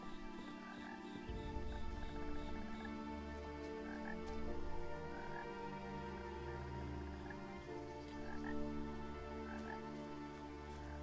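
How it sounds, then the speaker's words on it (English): Frogs croak in a layered, continuous chorus inside the video game What Remains of Edith Finch, quiet and steady with a low droning ambience beneath. "I can hear a frog."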